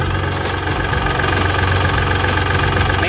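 A used Kubota L3608 tractor engine runs loud and steady close by, its low rhythmic chugging holding a constant throb throughout, with no voices.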